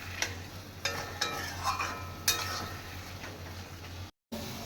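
Lote fish is stirred with potato and pumpkin in a pan for chocchori: soft, close scraping strokes at irregular intervals over a faint background sizzle, quiet overall and with no talking.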